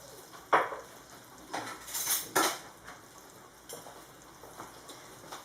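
A small spoon clinks against a cooking pot while argan oil goes into a fenugreek tajine, giving a few sharp metallic taps and scrapes spread over several seconds, fairly quiet and with no talk.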